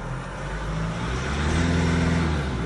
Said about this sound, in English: So start the vehicle up.